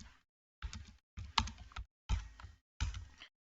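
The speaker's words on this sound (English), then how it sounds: "Let's type here." Short bursts of typing on a computer keyboard, five quick clusters of soft key clicks separated by brief pauses, close and quiet with no speech.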